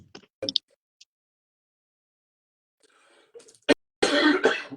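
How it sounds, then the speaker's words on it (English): A few short coughs near the start, then quiet, followed by a louder, harsher burst of coughing and throat-clearing at the end. "I don't have fever anymore, but I do have a bad cough"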